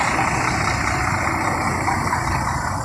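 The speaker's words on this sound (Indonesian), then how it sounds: "karena kemacetan parah di Jalan Soekarno-Hatta" Vehicles idle in a heavy traffic jam on Jalan Soekarno-Hatta in Palembang, a steady, continuous low engine rumble that stays at an even, loud level throughout with no voices.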